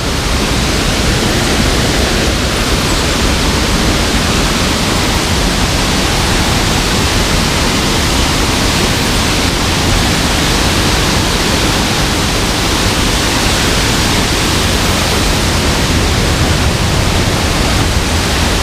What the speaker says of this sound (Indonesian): Semakin dekat ke air terjun.